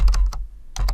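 Keystrokes on a computer keyboard while entering an email address into a document, a quick burst of several clicks, a brief pause, then another cluster of taps, close and fairly loud.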